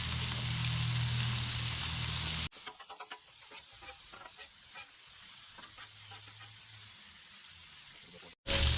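Bacon pieces and sausage frying on a Blackstone griddle, a steady close sizzle and hiss with light stirring and scraping, loud at first, then softer and continuous.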